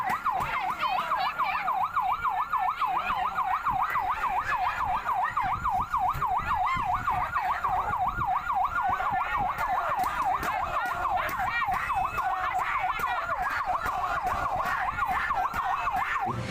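A wailing ambulance siren in Sumenep rises and falls continuously in a fast, repeating cycle, loud and steady over road noise throughout.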